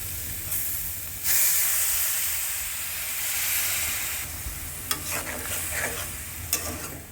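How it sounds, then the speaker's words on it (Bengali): Spice paste with green chillies fries in a pan for a cabbage and soybean curry as a little water goes in, loud sizzling steam that swells then eases, with light clinks of a spoon stirring near the end. "এখন আমরা এই মশলাটা কষাবো"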